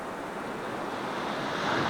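Sea waves washing against a rocky coast of hard Portland stone, a steady broad rush of surf that swells slightly louder toward the end, with wind noise blended in.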